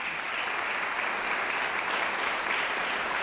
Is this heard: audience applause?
yes